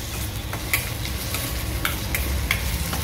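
Tomatoes, vegetables and soaked, pressure-cooked jowar sauté in a pan over a gas flame for jowar upma, a constant sizzle with repeated scraping, tapping stir strokes.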